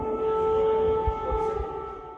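An air raid siren wails steadily in Russia's Kursk region during a reported drone attack, a sustained distant tone holding level with low rumbling beneath.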